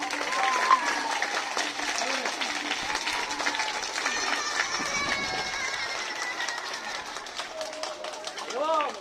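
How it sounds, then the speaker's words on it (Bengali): A school event audience claps loudly for parents, sustained applause mixed with crowd chatter and voices throughout. "জোরে হাততালি দেব।"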